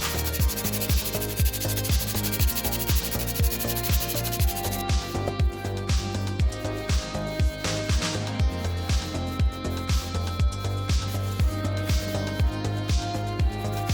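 Steady rhythmic sanding rasps across resin-coated 3D printed parts on a flat surface, a continuous rubbing scrape repeating about twice per second, close and fairly loud with no voices.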